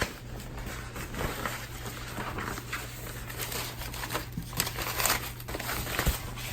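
Shrink wrap crinkling and tearing as it is pulled off a new iMac 5K Retina, a steady close rustle with faint crackles and no talk.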